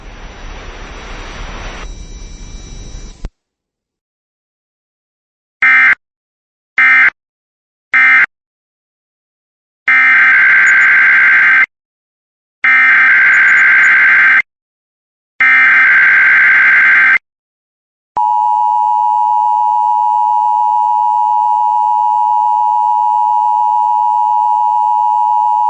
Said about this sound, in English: this was a test of the Thunder Buddy Media and News Network specific area message encoding and tone alert systems. The following tones will conclude this test.